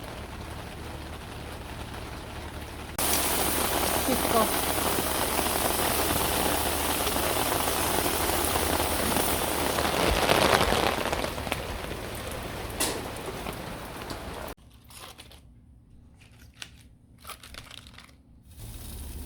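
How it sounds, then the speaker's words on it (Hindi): Rain suddenly starts on a rainy day in Canada, becoming a steady, dense hiss for about ten seconds before dropping to quieter, patchy sounds; one short word is spoken. "और एकदम से बारिश स्टार्ट हो गई है"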